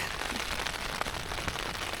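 Steady rain drums on a Hilleberg Soulo tent pitched on a beach, a dense, even patter filling the whole stretch at close range with no voices over it.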